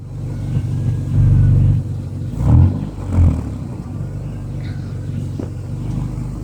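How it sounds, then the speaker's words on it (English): A car exhaust, likely an engine being revved, with a steady low rumble at idle and three short swells of throaty blips rising and falling, close and loud. "Do a rev."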